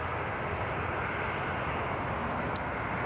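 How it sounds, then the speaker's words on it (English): A British Airways airliner taxiing at Newcastle Airport gives off a steady, broad jet-engine roar at moderate distance, with a faint high whine, continuous and unbroken, on a calm morning. "BA just taxiing as well."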